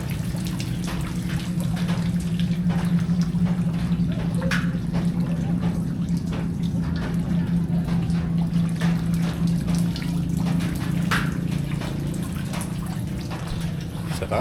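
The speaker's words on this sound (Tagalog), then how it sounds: "Sa taas, ang lakas ng ano ng tubig eh." Strong, steady rush of rainwater pouring from a gutter during a typhoon, a continuous loud wash with brief splashy accents, with a few faint voices in the background.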